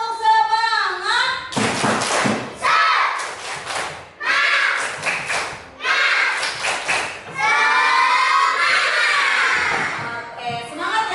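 A class of students performs a rhythmic spirit clap, with bursts of quick claps mixed with loud, close group chanting and singing voices.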